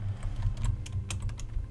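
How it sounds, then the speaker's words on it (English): Quick, uneven bursts of computer keyboard typing during a Minecraft session, close and clear with short gaps between keystrokes, no speech. "I'm terrible at typing."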